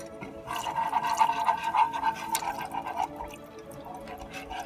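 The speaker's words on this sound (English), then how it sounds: "we're gonna add 2 cups of soy milk." Soy milk poured from a container into a flour roux in a cooking pot, a steady close liquid pour lasting about three seconds before trailing off.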